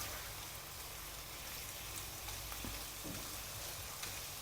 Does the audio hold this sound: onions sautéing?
yes